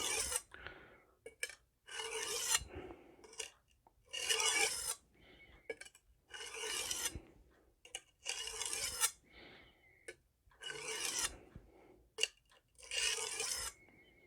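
Magnacut steel 8-inch chef's knife drawn across oiled Norton Crystolon coarse and fine sharpening stones, rhythmic rasping strokes repeating about every second or two, close and clear with no talk.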